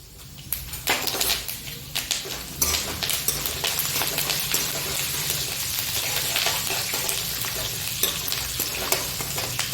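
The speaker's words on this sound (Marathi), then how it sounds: "कढीपत्ता छान फ्राय झाला पाहिजे हा कढीपत्ता फ्राय होतोय" Curry leaves fry in hot oil in a pan while puffed-rice snack seasoning is prepared, giving a loud, steady crackling sizzle with sharp spitting pops and a few stirring scrapes throughout, with no talk.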